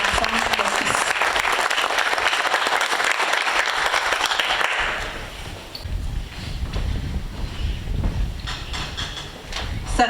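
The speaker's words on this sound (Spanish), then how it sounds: "Pido un fuerte aplauso para Aurora Bazán López." A crowd claps loudly for several seconds, then the applause fades into a low rumbling wind-like noise.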